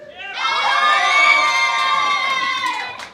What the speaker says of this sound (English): I'm seeing clapping and hands up and everything all around the building